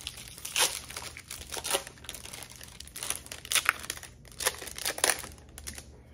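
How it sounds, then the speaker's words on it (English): Pokémon Charizard card booster packs being ripped open, repeated sharp crinkling foil tears in irregular bursts, close and fairly quiet. "Okay, start ripping. Here, I'll pre-rip these for you."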